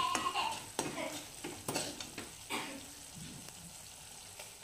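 Pav bhaji vegetables with cauliflower, capsicum and puree are stirred and sautéed in a pan, giving a soft steady sizzle broken by repeated scraping and clinking of a spoon against the pan.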